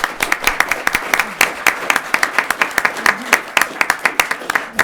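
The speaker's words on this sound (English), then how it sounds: "how about a round of applause for our" Applause from an audience at a school committee meeting, honoring students: dense, steady clapping from many hands across the whole stretch, fairly close and loud, with no talk over it.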